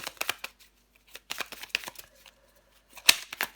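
Tarot cards being shuffled by hand in short riffling bursts with brief pauses between, close and crisp, ending in a sharp snap of the deck.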